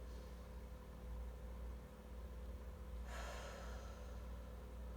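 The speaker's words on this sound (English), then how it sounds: "So let's take our first breath in." A slow breath drawn in during a guided breathing exercise, a soft rushing inhale rising about midway over a steady low background hiss, with no talking.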